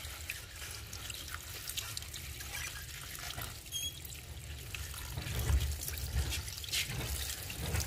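Chopped coriander being rinsed in water, a steady splashing and trickling wash that runs throughout at close range, without any talk.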